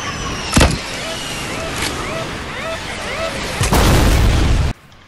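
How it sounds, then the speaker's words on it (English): A video game vehicle exploding into a wall: a loud sudden boom near the end breaks through steady engine and wind-like noise, after an earlier sharp impact, then cuts to quiet. "Exploded into a wall."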